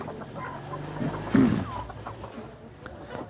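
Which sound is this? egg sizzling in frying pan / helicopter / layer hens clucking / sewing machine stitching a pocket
layer hens clucking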